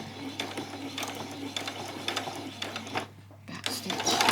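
A sewing machine back stitching a bodice seam runs in short mechanical bursts close by, with a steady motor hum underneath and a brief pause near the end.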